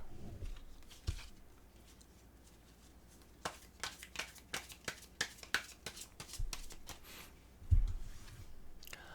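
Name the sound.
shuffling tarot cards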